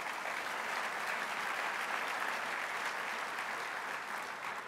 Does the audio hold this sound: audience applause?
yes